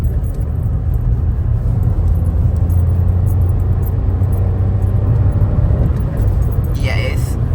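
A 2020 Toyota Aygo Mk2 X-Trend with a VVT-i engine picking up speed, giving a steady low engine drone and road rumble from inside the cabin that holds on throughout.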